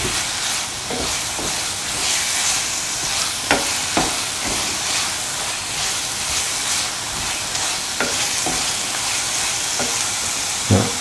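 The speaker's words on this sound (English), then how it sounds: "Mix the fennel powder and the turmeric powder with the rosemary and the parsley" Ground fennel, turmeric, rosemary and parsley are stirred in a hot, hissing pan, with a constant sizzle and repeated spoon scrapes and taps.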